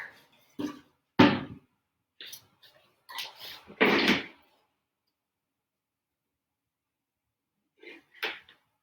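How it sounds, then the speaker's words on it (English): A wooden drawer is pulled out of a piece of furniture, producing a few short sliding knocks and clunks in quick bursts, close by, followed by silence and one last faint rattle. "Take this drawer out here."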